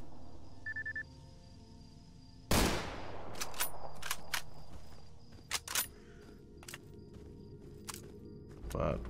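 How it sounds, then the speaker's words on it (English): Mosin rifle shots crack out while sniping boars in Stalker Anomaly. A loud blast comes first, then several sharp reports in quick bursts with softer clicks between them, over quiet ambient game sound. "We sniped the boars with the Mosin."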